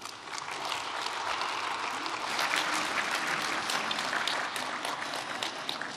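Audience applause at the opening of the international Issyk-Kul forum, brisk continuous clapping from a large hall that swells slightly in the middle and holds steady, with crisp individual claps audible in the mix.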